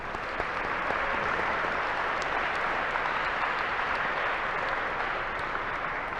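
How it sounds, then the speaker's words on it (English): An audience at a Veterans Day program applauds a band and choir with steady, dense clapping that holds evenly throughout, filling the hall without any voices. "another round of applause."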